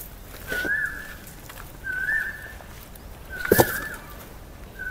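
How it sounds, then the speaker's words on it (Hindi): An Asian koel calls outdoors in a residential colony, three clear rising whistled notes spaced about a second and a half apart, moderately distant, with a brief sharp knock near the third call and quiet street ambience between. "कोयल का आवाज कहाँ से आ रहा है?"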